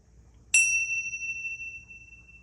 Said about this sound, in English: let's clear it with some bells